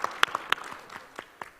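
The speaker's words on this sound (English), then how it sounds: "That deserves a round of applause, okay?" Brief, scattered clapping from a conference audience at a Dominicans on the Hill executive panel, a few sharp claps then thinning out, fairly faint over a quiet room.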